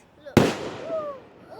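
A Fourth of July firework bursts with a sharp, loud bang, then its rumble and crackle trail away, with excited voices talking around it.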